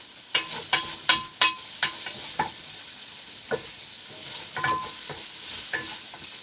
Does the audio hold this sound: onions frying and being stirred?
yes